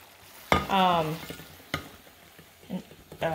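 Canned Rotel tomatoes hit a sprayed baking pan with a few short, sharp splats and clatters, separated by quiet gaps, fairly close.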